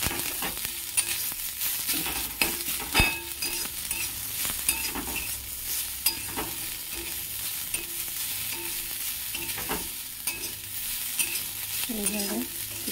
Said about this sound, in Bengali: আর একটুখানি জাস্ট হলুদ দেবো, দিয়ে এইভাবে একটুখানি নাড়াচাড়া করতে থাকবো।